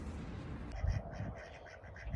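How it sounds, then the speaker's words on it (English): Ducks quack in a quick, moderately faint series of nasal calls over low outdoor rumble. "Ducks? Now that's what I call epic."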